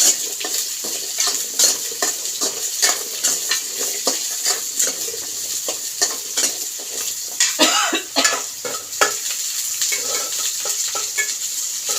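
Cut radish sautéing in oil in a pan, a steady close sizzle with repeated stirring scrapes and light clinks of a utensil against the pan, without talking.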